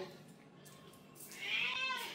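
A house cat gives a short, fairly faint meow near the end, after a quiet stretch with a low background hum.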